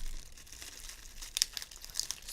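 A strip of packing tape being ripped and crinkled while unboxing a Marantz Pod Pack 1 microphone boom arm, a short close rustling tear with a few crisp crackles, quiet and without talk.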